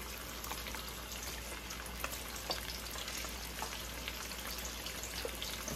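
Cloves of garlic fry in a pan for stew fish, giving a faint, even crackling sizzle with scattered small pops throughout.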